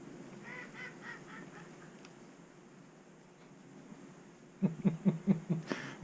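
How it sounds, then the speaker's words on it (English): Ducks or geese call in a quick series of about six loud honks near the end, following a quiet stretch of faint background noise. "Watching your ducks?"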